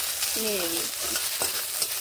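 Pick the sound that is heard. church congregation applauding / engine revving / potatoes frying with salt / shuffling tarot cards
potatoes frying with salt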